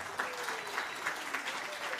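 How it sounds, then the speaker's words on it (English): Applause from the audience at a livestreamed bluegrass-style concert broadcast by Radio Bristol's Farm and Fun Time, a moderate wash of clapping lasting a couple of seconds, fairly even and slightly distant. "Give yourselves a round of applause"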